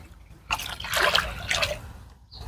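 About two liters of water pour into a sprayer tank for chili plants, a close trickling, splashing stream that runs for over a second and a half before tapering off.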